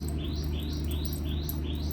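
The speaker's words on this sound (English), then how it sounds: "Oh, the birds are chirping." Birds chirp in a quick repeating series of short rising tweets, about four per second, over a steady low background noise.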